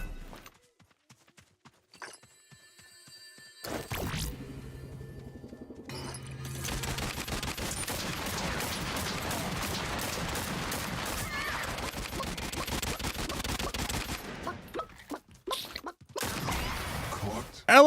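A light machine gun rattles in the video game Realm Royale, with a long sustained stream of rapid automatic fire preceded and followed by scattered single shots and impacts. Someone talks over the gunfire.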